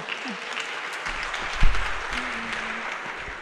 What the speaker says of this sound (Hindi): इस बात पे तालियां काफ़ी बजी हैं